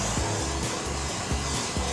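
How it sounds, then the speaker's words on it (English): A heat gun blows a steady, loud stream of air up close, a continuous whooshing hum with slight pulsing fluctuations. "So what I've got here is a little heat gun"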